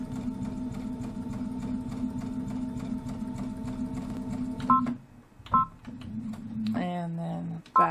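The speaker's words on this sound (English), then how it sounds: "and sew through the rest of it." A sewing machine stitches through fabric for a corner block bench pillow, running steadily with a rhythmic whir before stopping and starting in short bursts.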